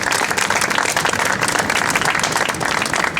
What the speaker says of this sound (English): Please, a big round of applause for them as well.